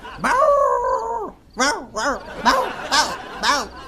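A man imitates a dog with his voice: one long drawn-out howl, then four short, sharp yelping barks in quick succession, loud and close.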